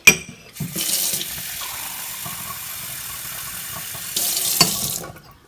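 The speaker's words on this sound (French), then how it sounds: "Et ensuite on met de l'eau dedans." Tap water runs steadily into a container for household cleaning, a continuous close splashing hiss that swells louder at the start and again near the end, with no talking.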